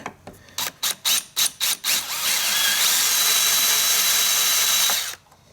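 A Warrior drill bit bores out a broken bolt: a run of short, sharp bursts from the drill gives way to a loud, steady grinding whine for about three seconds, then cuts off abruptly.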